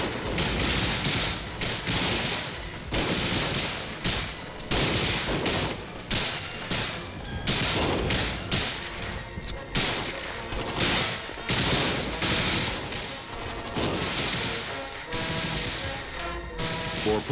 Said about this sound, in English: The M14s on full automatic fire from the hip in short bursts,